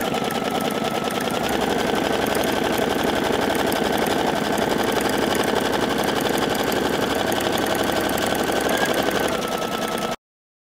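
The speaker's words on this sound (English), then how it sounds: "All I gotta do is stitch the first step, and that is the placement stitch" An embroidery machine runs a placement stitch on tearaway stabilizer, the first step of making a fabric mask, giving a steady, fast, rhythmic mechanical whirr and clatter that stays loud and close throughout, with no talking.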